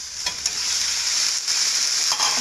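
Chicken pieces fry in a pan with golden-browned onions for Chinese chicken egg fried rice, a steady close sizzle with a few soft stirring scrapes and no voices.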